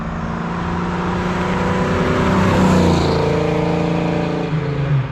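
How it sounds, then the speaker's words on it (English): A bone-stock Fox Body Mustang fitted with a Flowmaster exhaust revs in a steady, loud, close rumble, swelling in a throaty rise around the middle before settling back, with no talk over it. "Before and after stock exhaust sounds and much needed upgrade. Love the FlowMasters."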